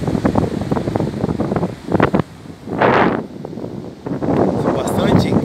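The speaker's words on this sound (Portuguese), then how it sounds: "dá pra escutar o barulhão do mar?" Ocean waves at Atalaia beach in Salinópolis, Pará, heard from a motorhome parked on the sand, a loud rushing surge swelling and receding amid gusty wind noise, with someone talking over and between the waves.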